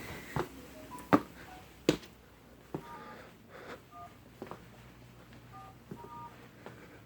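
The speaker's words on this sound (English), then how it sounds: "Sorry if you can hear the beeping in there." Short electronic phone beeps sound intermittently in pairs and single tones, faint and scattered among soft clicks and taps, with no talking.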